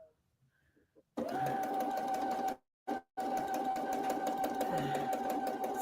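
Domestic sewing machine stitching quilt block seams, a close, steady motor whirr with rapid needle chatter, starting after a quiet moment and briefly stopping once before resuming.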